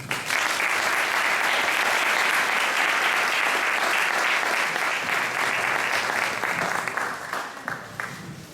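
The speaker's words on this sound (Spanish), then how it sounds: "le pido un aplauso para él" A lecture-hall audience at a Spanish astronomy talk applauds steadily for about eight seconds, dense sustained clapping that thins out and fades at the end, with no voices over it.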